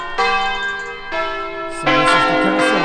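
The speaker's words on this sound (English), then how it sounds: "the church bells have been ringing for about 10 minutes" Church bells peal loudly near a castle in Albiolo, Italy, a dense ringing wash of overlapping strikes that swells again near the end, with a brief voice speaking over it.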